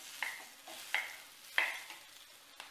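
Samosa potato filling roasted in a pan, with several separate scraping stirs of a spoon over a faint sizzle, moderately close and fairly quiet.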